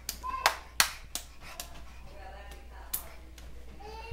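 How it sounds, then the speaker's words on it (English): Several sharp hand claps ring out at uneven intervals, fairly close and clear, with a voice and an adult talking softly in between. "They say, clap, clap, clap."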